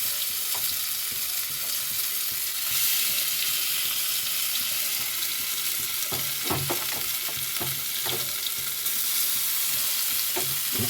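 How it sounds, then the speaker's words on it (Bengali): Chicken pakoras dropped one at a time into smoking-hot oil in a pan, a steady loud sizzle of frying with several sharp splashing crackles as each piece goes in, no voices. "আমার গড়াতে তেল গরম হয়ে গেছে দেখো ধোঁয়াও উঠছে আর আমি এই পকোড়াগুলো ছেড়ে দিচ্ছি একটা একটা করে"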